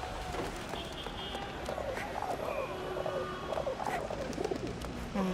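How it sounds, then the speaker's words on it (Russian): Carrier pigeons in the World War I video game Valiant Hearts: soft, repeated cooing calls rising and falling over a dense, busy game ambience, moderately loud with no clear speech. "Голуби почтальоны."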